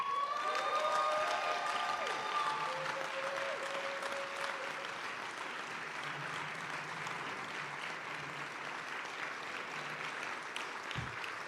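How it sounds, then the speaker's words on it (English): An audience applauds a newly elected mayor at a state of the government address, a long, full, steady roar of clapping that fills the room. A sustained tone wavers over the start, then the applause continues evenly on its own. "Now you have plenty more time for applause"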